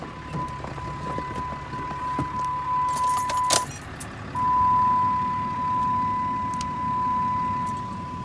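A 2018 Ram Dually pickup truck starting up: keys jangle and a steady chime rings, then the engine catches and settles into a smooth, loud idle rumble close by.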